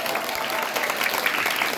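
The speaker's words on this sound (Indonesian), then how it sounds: "tepuk tangan untuk santri" Applause from a crowd at a humorous Sundanese Islamic sermon in a village, clapping for the santri, a dense steady patter of many hands held at even loudness for the whole stretch.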